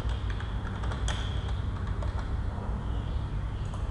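Rapid, light keystrokes clatter on a computer keyboard while code is typed, close and continuous over a low steady hum, with no talking.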